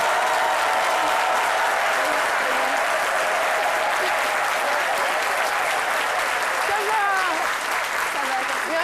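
Sustained applause from a studio audience on a live television show, dense and even clapping that fills the whole stretch at a steady level.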